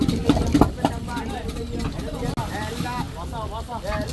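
Fishing boat engine chugging at sea during sardine netting, a low steady drone under wind and fishermen's talk, with a brief dropout midway.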